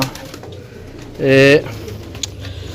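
Pigeons at a rooftop bird market in Gujrat give a single short, loud coo lasting about half a second, set against steady background noise and nearby talk.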